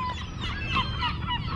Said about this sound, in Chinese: 这些海鸥真的是很有意思，都在这儿等吃的呢。